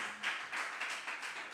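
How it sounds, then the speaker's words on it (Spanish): Quiet applause from a church congregation: a soft, steady patter of clapping with gentle swells over about a second and a half, heard alone and somewhat distant. "regálele esa fuerte ofrenda de aplausos al Señor"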